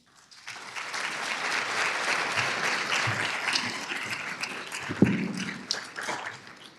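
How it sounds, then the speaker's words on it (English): An audience applauds steadily for several seconds, the clapping swelling quickly and holding at a moderate, roomy level. "Let's give her a big round of applause"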